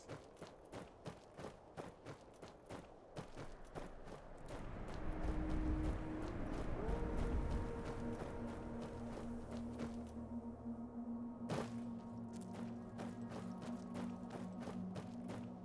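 Footsteps in heavily modded Skyrim, a run of crisp, regular clicking steps that grows irregular and then drops out, later joined by a low rumbling swell and sustained droning tones, with a few scattered taps near the end.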